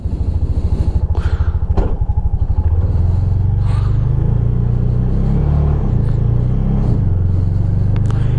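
A Bajaj RE 200 three-wheeler motorcycle engine rumbles steadily while riding, with a fast put-put idle at the start before revving into a continuous, loud, close-up drone with a few clattering knocks.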